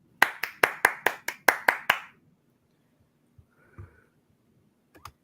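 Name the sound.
clapping hands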